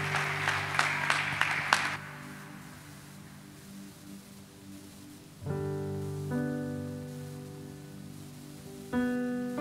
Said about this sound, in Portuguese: Uma salva de palmas ao nosso Senhor Jesus